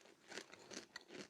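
Banana chips crunched and chewed close up, three bursts of crisp crackling bites in quick succession with no talk.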